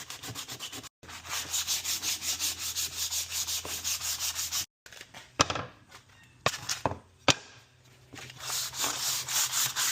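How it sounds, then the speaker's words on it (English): Hand sanding scuffs a table surface ahead of repainting, with rhythmic back-and-forth rasping strokes, brief pauses, and a few knocks and scrapes before the strokes resume. "The first thing we're going to do is just scuff this up a little bit, sand this down so that it's smooth"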